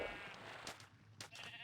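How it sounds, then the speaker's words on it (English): A sheep bleats in a blocky Minecraft-style survival video game, a short nasal bleat over quiet ambience, followed by faint noisy bursts. "oh, a sheep!"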